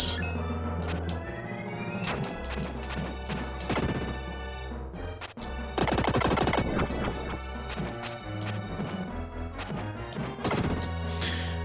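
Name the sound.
enemy explosion sound in the video game Illusion of Gaia (SNES)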